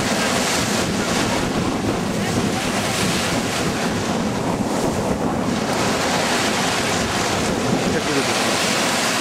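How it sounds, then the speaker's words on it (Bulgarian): South China Sea waves at Sanya, China surge and wash continuously, loud and close, mixed with strong wind buffeting the microphone. "Исак плува в Южно-Китайско море"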